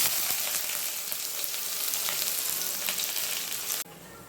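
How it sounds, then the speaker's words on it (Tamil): Onions sautéing in hot oil with mustard seeds and fennel in a pan, a steady dense sizzle with occasional stirring scrapes, close and continuous, that drops abruptly near the end. "வெங்காயத்தை நல்லா வதக்கிக்கலாம்."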